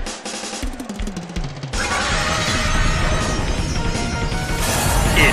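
Loud crashing impact effect from an attack hit in the Pokémon Battle Revolution video game, a sharp smash followed by a dense sustained roar of noise.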